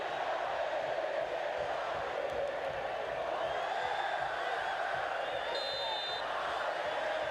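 A football stadium crowd at a Concacaf Nations League match between Guatemala and Panama roars in a steady, distant wash of yelling and cheering, with a commentator talking over it.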